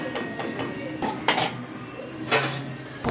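Metal clanks and scrapes of a lid being set onto a pot of beef curry, two louder knocks standing out, with faint voices in the background.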